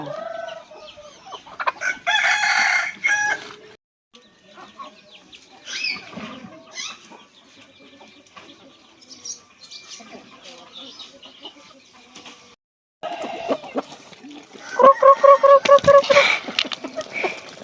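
Laying hens kept by hill-tribe villagers in the highlands cluck and call repeatedly, with a rooster crowing; bursts are loudest near the start and end, and a person talks faintly among the birds.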